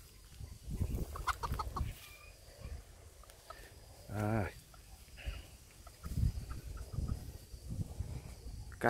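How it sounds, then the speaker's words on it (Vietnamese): Bantam chickens kept at a home garden cluck and call close by in short bursts, with one rising drawn-out call in the middle, while someone talks in between. "Gà tre nhà mình đây."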